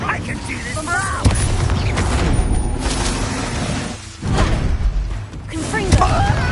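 Incendio fire spell cast in the Hogwarts Legacy video game amid combat, with bursts of booming, whooshing magic blasts and thuds layered over game voices and a busy, dense mix.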